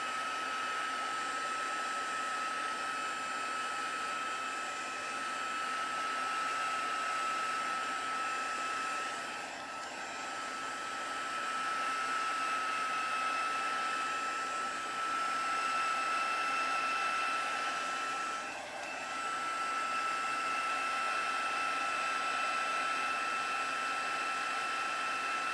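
Hair dryer blowing over freshly stamped cardstock, a loud continuous whooshing drone lasting the full stretch, dipping briefly twice as it is moved.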